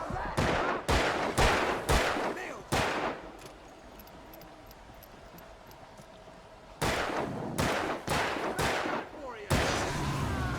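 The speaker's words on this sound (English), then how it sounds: "Start shooting them." Rapid volleys of gunfire in the video game Alan Wake, loud clusters of sharp shots separated by a quieter stretch with a faint voice, then another burst of repeated shooting.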